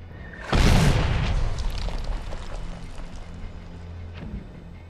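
A mortar explosion in the Medal of Honor shooter game on PlayStation 3, a single loud booming blast that decays into a rumbling tail over several seconds.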